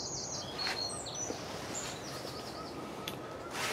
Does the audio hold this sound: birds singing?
yes